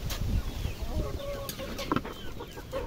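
Hens clucking inside a chicken coop during egg collection, several close, irregular clucks and squawks with brief rustling, while a person talks over them.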